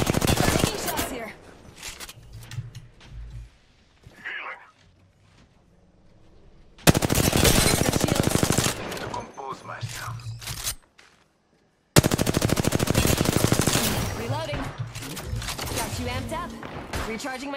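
Gunfire in the video game Apex Legends comes as loud, rapid automatic bursts in several long stretches, with short pauses and quieter game sounds between them.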